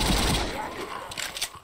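Rapid bursts of gunfire from a gun in the zombie shooter game Zombie Stories, moderately loud and quickly repeated, with a few sharper shots toward the end.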